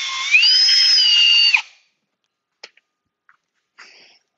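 A high, whining drill with a blunt bit runs steadily for about a second and a half while drilling a plastic bucket for a hydroponic system, then cuts off, followed by a few faint clicks and a brief rattle.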